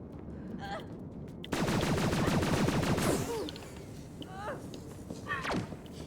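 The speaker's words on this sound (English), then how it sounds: "It's a fire killer grenade launcher" Grenade launcher in the Pulsar Lost Colony game firing fire-suppressant foam: a loud, dense burst of rapid repeated shots over about a second and a half, then scattered thuds and small effects, with talk faintly underneath.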